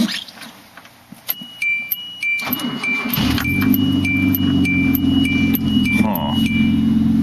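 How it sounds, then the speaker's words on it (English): A car engine cranks and catches, then settles into a loud steady idle with a high whine, after a few light clicks and jangles. "I'm going to push the clutch pedal in and start the car"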